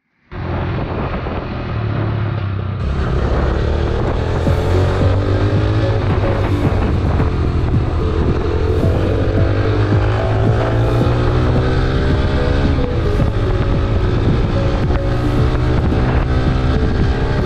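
A motorcycle fitted with an NGK iridium spark plug, ridden hard through the gears, its engine roaring loud and close with rising and falling pitch at each shift, wind rushing over the microphone and no talk.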